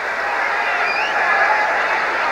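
Steady broadband crowd roar with applause filling a basketball arena during a 1992 NBA playoff game between the Portland Trail Blazers and Los Angeles Lakers, continuous and fairly loud throughout with possible faint voices mixed in.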